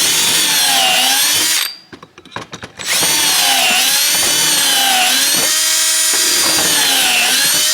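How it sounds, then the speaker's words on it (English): Pocket hole jig drilling with a power drill, the loud steady whine running almost throughout, dropping out briefly for a second near the middle before resuming at full strength. "So I just pre-drilled all of these in my little Craig jig tool"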